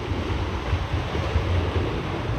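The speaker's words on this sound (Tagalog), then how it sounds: "Maririnig mo yung tunog ng dagat" Steady roar of sea waves and surf with gusting wind buffeting the microphone, continuous and fairly loud throughout.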